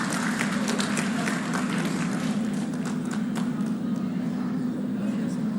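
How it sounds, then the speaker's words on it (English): Crowd applause at a ceremony in Visakhapatnam marking the foundation stone of a badminton academy, with a sporting memento being presented; steady dense clapping fills the room for several seconds over a constant low hum, with voices mixed in. "Kindly, a big round of applause,"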